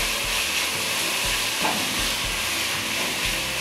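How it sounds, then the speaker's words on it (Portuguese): Carrot is sautéed in a pan, a loud continuous close-up sizzle and hiss broken by regular low scraping thumps of stirring about every second. "Vou dar uma refogadinha nessa cenoura."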